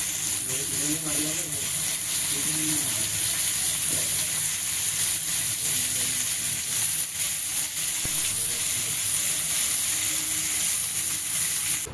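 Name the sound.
pomfret fish frying in a pan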